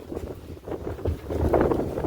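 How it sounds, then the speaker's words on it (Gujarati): Strong gusty wind blows across an open rooftop, a close, rumbling buffeting roar that swells and surges with no voices. "ફૂલ પવન છે. વાવાઝોડા જેવું લાગે એટલે ફૂલ પવન."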